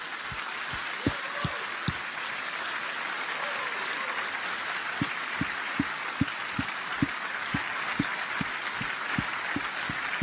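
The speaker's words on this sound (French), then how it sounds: "Est-ce qu'on pourrait rendre gloire à Jésus simplement en lui faisant une ovation?" A church congregation giving an ovation to Jesus, broad sustained applause filling the hall with a low steady thumping beat underneath, several voices faintly present.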